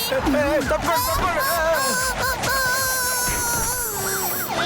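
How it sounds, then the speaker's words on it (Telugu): A wailing siren rises and falls continuously, loud and nearby, with people talking over it throughout. "ఈ సైరన్ ఎక్కడి నుంచి వస్తోంది?"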